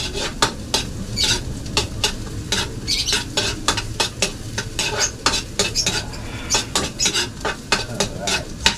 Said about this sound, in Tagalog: Lang natin yung bawang at luya.